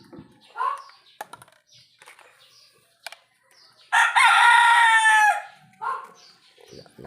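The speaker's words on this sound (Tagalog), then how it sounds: "Lakas tumilaok yung manok." A rooster crows loudly once, a long, bright, close call of about a second and a half, standing out from a quiet room with scattered faint talk and small handling noises before and after.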